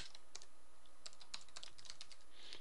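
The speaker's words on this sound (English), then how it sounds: "I was typing and I was looking at my keyboard because I got a weird keyboard right now" Fingers tapping on an unusual computer keyboard while writing Java code, heard as quick, irregular, crisp key clicks in a steady flurry, close and fairly quiet, with no voices.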